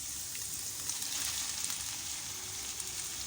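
Heart, kidney and liver fry with garlic and ginger paste in a pan, a close, even hiss and sizzle with small crackles, steady throughout with no talk.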